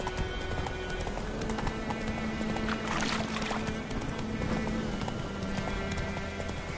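Horse hooves clip-clopping at a steady gallop in The Witcher 3, a continuous rhythmic patter over a dense game soundscape with a low steady hum, loud and close throughout.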